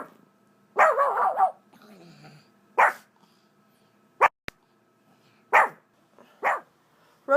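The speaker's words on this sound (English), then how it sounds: "it is a combination of a level 2 bark and her interpretation of a howl" A small female dog named Ro gives a mix of short barks and a comic attempt at a howl, in several separate close, loud bursts with quiet gaps between.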